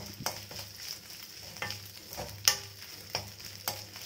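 Ginger garlic paste fries in a pan while a spatula stirs it, leaving a steady sizzle broken by sharp scraping strokes every half second or so, heard up close with no talking.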